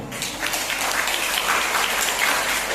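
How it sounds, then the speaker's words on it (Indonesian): A church congregation at a Christmas celebration applauds, a dense, steady wash of many hands clapping throughout with no speech over it. "Tepuk tangan dulu untuk Tuhan."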